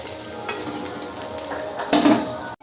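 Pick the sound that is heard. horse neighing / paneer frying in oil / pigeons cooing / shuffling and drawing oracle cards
paneer frying in oil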